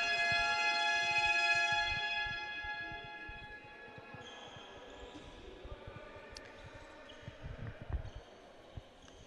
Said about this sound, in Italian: il suono della sirena